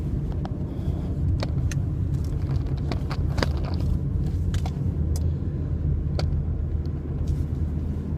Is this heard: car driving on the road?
yes